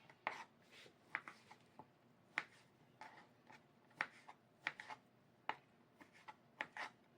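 A knife chops raw meat into small pieces on a board, making a quiet, close series of sharp irregular taps with brief pauses between cuts.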